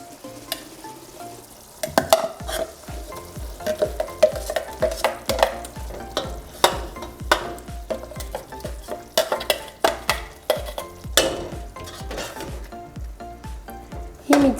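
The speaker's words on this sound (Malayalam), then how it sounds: "ഇനി ഇതിലേക്ക് നമ്മൾ തയ്യാറാക്കി വെച്ചിരിക്കുന്ന അരപ്പ് ഒഴിച്ചു കൊടുക്കാം." Ground coconut paste goes into a boiling tamarind fish curry, with repeated loud scraping and stirring clatter from a utensil in the pot over a low bubbling sizzle, and no talk.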